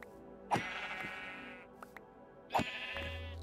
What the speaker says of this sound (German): kann ich hier Schafe reinsetzen